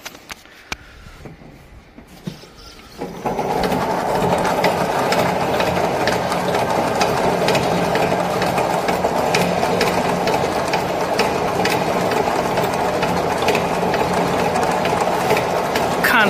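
A steel wire coil wrapping machine switches on after a quiet start and runs with a steady, loud mechanical whir and rhythmic clatter, continuous and unchanging to the end.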